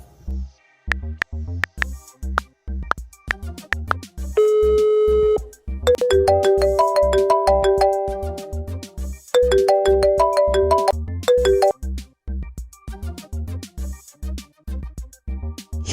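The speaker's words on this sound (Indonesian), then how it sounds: "Sebentar ya Pak, saya mau angkat telepon dulu." A phone in the Sakura School Simulator video game rings with a looping electronic ringtone melody over a rhythmic thumping beat, loud and close, lasting the whole stretch with brief pauses between phrases.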